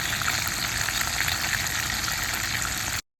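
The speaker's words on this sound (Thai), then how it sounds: "ใส่เห็ดเบคอนลงไปค่ะฮันนี่ มาฟังเสียงน้องเบคอนเห็ดกันดีกว่าค่ะ" Steady, dense sizzling and crackling of bacon-wrapped mushrooms frying in hot oil, close up and continuous.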